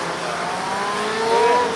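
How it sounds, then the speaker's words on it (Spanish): A black motorcycle's engine roars steadily and swells louder near the end as it skids, with a faint squeal of tires, at a moto gymkhana competition heat. "Ahora viene ese tiro de la moto negra que va derrapando"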